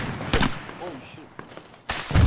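Sharp gunshot bursts from ArmA 3 large-scale co-op play, a couple of loud cracks near the start and end with a fainter shot between, under quiet talk.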